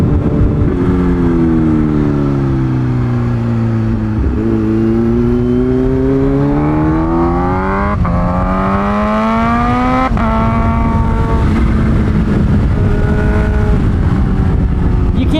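A Kawasaki ZH2 sport motorcycle with a full exhaust revs hard and continuously, its engine pitch climbing and dropping repeatedly, close and roaring throughout.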